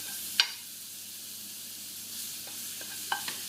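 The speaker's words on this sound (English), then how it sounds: "You see we've got a little bit of butter in there. We're going to let that foam down." Butter foams and sizzles softly in a pan, a faint steady hiss broken by a couple of brief clicks of a utensil, with no one speaking.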